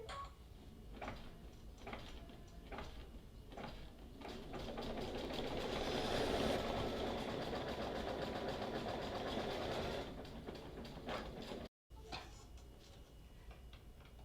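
A Brother embroidery machine sews a decorative stitch with a rapid mechanical whir and rhythmic needle ticking. It is fairly quiet and close, swells in the middle, and a brief dropout comes near the end.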